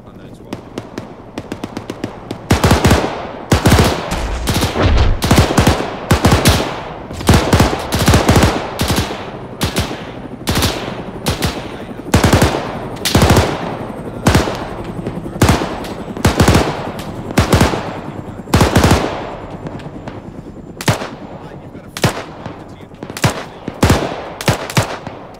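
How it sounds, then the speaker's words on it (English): Bursts of automatic gunfire from a military shooter game crack repeatedly and loudly, sometimes in rapid clusters and sometimes as single shots, with brief gaps in between. "I can't tell if I'm shooting an enemy or just the wall anymore"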